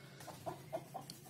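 A chicken clucks softly in the distance, with three or four short, faint calls over a low background hum.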